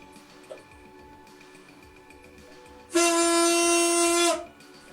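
A single sustained honk comes from a homemade wind instrument built from a larger PET plastic bottle, its tone rich in harmonics, loud and steady for about one and a half seconds after a quiet lead-in.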